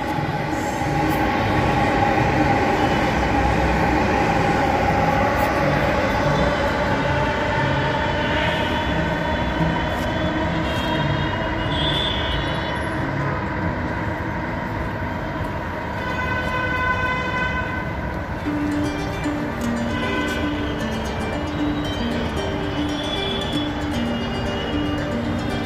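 A Delhi Metro train runs past near New Ashok Nagar station on the Noida–Delhi border, a steady, loud rumble of wheels and carriages lasting throughout, with a brief high squeal partway through and no talking.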